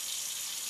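Tap water runs in a steady, even hiss for under a second, fairly faint and heard alone.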